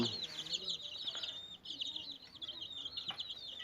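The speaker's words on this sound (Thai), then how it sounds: "แม่ไก่ลูกดกนะครับผม" Breeding hens in a Thai poultry yard give soft, scattered clucks at close range, with higher chirps mixed in over steady background noise.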